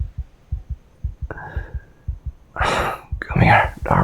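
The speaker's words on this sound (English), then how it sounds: "Your heartbeat is so wild, erratic, fearful." A fast, irregular heartbeat thumps steadily and close, with short bursts of breathy, shaky noise and gasps rising over it toward the end.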